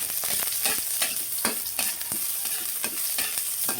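Garlic, onion and ginger fry in a little oil in a pan, giving a bright continuous sizzle with frequent scraping stirs of a utensil, close and fairly loud, without voices.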